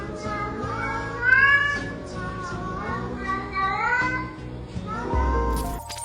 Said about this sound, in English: if this feline friend loved a tune enough to join in